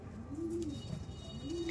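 Pigeons of a Madrasi long-flying breed coo in soft, rolling phrases, with two drawn-out swelling calls close by and steady low rumbling between them.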